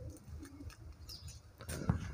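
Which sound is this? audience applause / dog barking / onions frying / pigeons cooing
pigeons cooing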